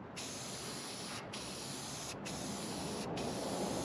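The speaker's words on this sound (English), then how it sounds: "I'm going to make the one shiny part I have, this brand new radiator, unshiny with semi-gloss paint." Aerosol spray of semi-gloss paint coating a brand new radiator, a continuous close hiss broken by three brief pauses between bursts, with no talking.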